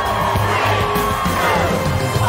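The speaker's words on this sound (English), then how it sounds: "during the London finale of 2, hate to say it, but that crowd isn't screaming in a British accent" A film crowd screams and cheers in a London finale scene, a dense roar of many voices with whoops and shouting layered over a steady backdrop.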